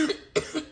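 A woman coughs twice in quick succession, close and fairly loud, each cough a short harsh burst.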